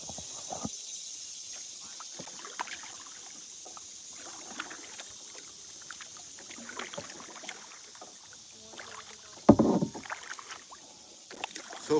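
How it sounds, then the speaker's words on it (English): Paddles dip and pull through river water in soft, irregular splashes and drips, near and fairly quiet, with a louder splash toward the end over a faint background hiss. "So for about the next mile, it's all paddling."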